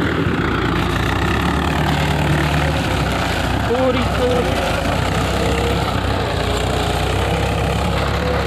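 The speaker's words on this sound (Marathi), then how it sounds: "ट्रॅक्टर पुढे चालू आहे" A tractor engine runs steadily through the whole stretch while sowing seeds in a farm field, a loud continuous low rumble with a brief voice partway through.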